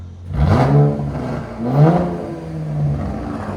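Close-up revving of a 2019 Chevrolet Camaro RS 3.6L V6 fitted with an MRT cat-back exhaust: two sharp throttle blips swell and drop away, followed by a lighter rise over a steady low rumble.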